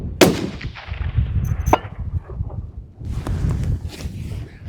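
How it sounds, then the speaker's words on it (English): A single sharp rifle shot from a hunting cartridge fired outdoors, loud at the start and fading into open-air ambience with faint movement afterward. "And this will be the first shot."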